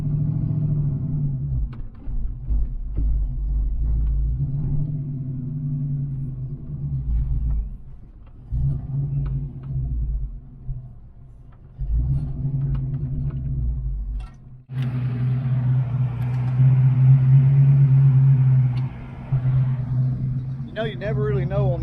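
A stroked Ford Foxbody Mustang idles with a slight miss, its low uneven rumble wavering throughout, with a brief dip partway and a rise in engine noise toward the end.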